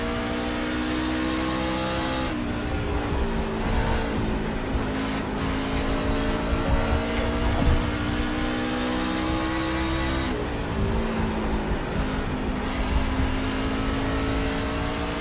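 A NASCAR truck engine on a warm-up lap in iRacing at Bristol gives a continuous, loud, even drone with steady pitch shifts as it rolls around the oval.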